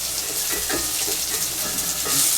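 Tofu, egg and mung beans sizzle in hot frying oil, a close, steady, bright hiss with faint crackling pops throughout.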